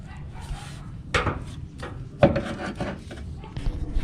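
A new KYB shock absorber slides onto a mounting stud on a Jeep Cherokee XJ, producing a few scraping metal rubs and one sharp clunk, close-up amid quiet workshop ambience.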